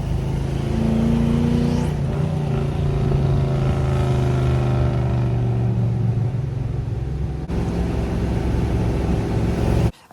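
A 1976 Ford F-150 crew cab truck with a 460 four-barrel engine and manual transmission runs close by: a loud, steady low rumble with a brief rising rev near the start, then an even idle that cuts off at the end.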